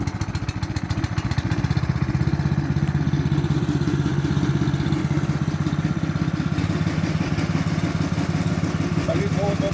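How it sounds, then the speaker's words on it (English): A wood chipper's engine runs close by, a loud steady mechanical chugging and rattling that holds constant for the whole stretch with no pauses. "Ian's about to start the chipper up and we'll get going with some chipping."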